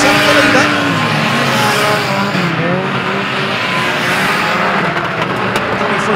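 Banger racing cars roar close together at Mildenhall, engines revving and tyres squealing through a continuous dense drone, with a commentator talking over the action.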